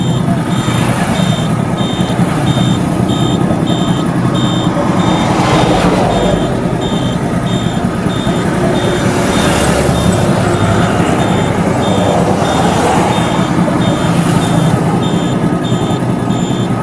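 Trucks and a bus roll past on a busy road in a steady wash of heavy traffic noise, with a repeating reversing beep cutting through and swells as large vehicles go by.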